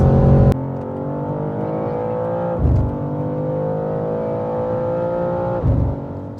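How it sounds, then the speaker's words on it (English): A 2023 BMW M2 G87 pulls hard at full throttle on the Autobahn, its engine note climbing steadily in pitch with brief dips at two gear shifts, loud and sustained from inside the car. "I'm now taking it onto the Autobahn. So let's go, full throttle."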